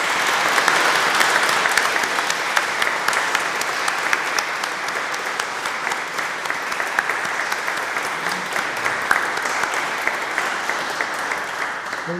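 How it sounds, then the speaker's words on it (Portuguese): A church congregation applauds at Sunday Mass in a Catholic sanctuary, a steady, dense wash of clapping from many hands filling the hall and continuing for over ten seconds without a break. "Pedi uma salva de palmas"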